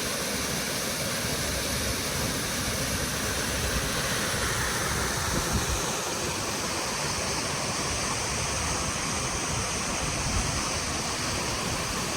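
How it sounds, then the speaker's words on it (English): Spring Creek along the Kings River Trail rushes in a steady, loud, broadband roar of flowing water, continuous and unbroken throughout with no voices. "Made it to Spring Creek."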